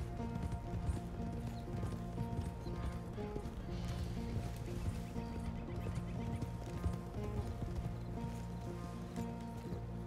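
Horse hooves clip-clop in a steady rhythm in the video game Red Dead Redemption 2, fairly faint, over a continuous low droning background.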